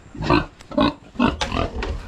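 A pig grunts repeatedly up close, four or five low, throaty oinks in a steady rhythm, loud and clear with no talking.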